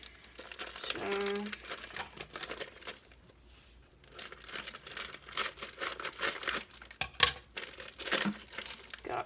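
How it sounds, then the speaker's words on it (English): Close, wet crinkling and crunching as kitchen scissors cut through raw chicken, in uneven bursts with a sharper snap near the end and a brief spoken word early on. "So you're going to cut through chicken, try and get a good cut."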